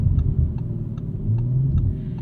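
A 2023 Audi RS5 Competition with a twin-turbo V6 accelerates hard, its engine a loud, sustained low rumble that climbs in pitch through the run, with faint regular ticking over the top and no voices.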